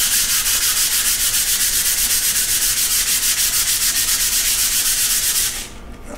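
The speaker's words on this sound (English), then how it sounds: "we're just going to give this thing a real light sanding with some 220 grit sandpaper" Light hand sanding of a concrete countertop with 220-grit sandpaper, a fast rhythmic scratchy rubbing in quick strokes, close and loud, stopping abruptly near the end.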